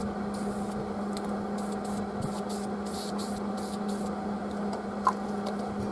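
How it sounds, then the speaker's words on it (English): Weld-through primer sprays from an aerosol can onto a steel dump trailer repair in a workshop. A steady close hiss runs through the whole span in short bursts, with no voices. "We'll hit this with some Weld Thru primer also."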